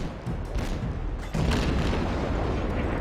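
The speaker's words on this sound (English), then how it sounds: "Now I'm just blind firing at that cruiser" Heavy booming naval gunfire from a ship in a World of Warships-style game, with deep rumbling blasts that swell into a sustained loud roar after a moment, no voices present.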